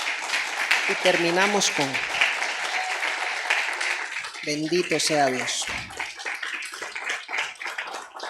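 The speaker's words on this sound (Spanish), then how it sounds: "Denle un aplauso al Señor" A church congregation at a Spanish-language service applauds: sustained, dense clapping from many people fills the space. A voice speaks loudly over it twice.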